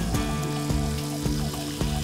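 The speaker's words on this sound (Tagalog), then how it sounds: "Hanguin ang atsuete, idagdag ang bawang at igisa hanggang mag-brown" Garlic sizzles in annatto-colored oil for pancit palabok, a steady, close frying hiss with a few soft periodic knocks, likely from stirring, and no talking.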